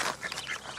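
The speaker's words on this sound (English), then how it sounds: "Mammy Duck's kind of doing a hiss" A mother duck hissing at close range beside a group of ducklings, a short breathy rasping burst with faint duck-like tones, heard outdoors on a camping trip.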